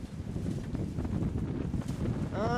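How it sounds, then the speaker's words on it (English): Outdoor wind gusts roar steadily against the microphone beside a small wind generator, a continuous rushing noise with a brief higher whine near the end. "Get a nice little gust going here"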